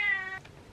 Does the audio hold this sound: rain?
no